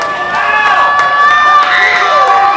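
Baseball fans cheer and build volume in the stands during a minor-league game between the High Point Rockers and Southern Maryland Blue Crabs, a steady loud crowd roar with shouts rising over it.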